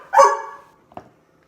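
A single sharp dog bark close by, followed after a short pause by a faint, brief second yip.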